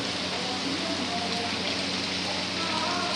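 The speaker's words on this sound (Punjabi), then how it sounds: "ਸਾਨੂੰ ਘੰਟਾ ਹੋ ਗਿਆ ਮੀਂਹ ਪੈਂਦੇ ਨੂੰ" Steady rain hisses evenly throughout, a constant broadband wash with no breaks, moderately loud and close.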